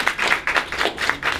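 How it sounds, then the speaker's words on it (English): A short burst of audience applause at a community session, a small group clapping in fairly dense, even bursts, close and moderately loud with no talk over it. "Let's give them a round of applause."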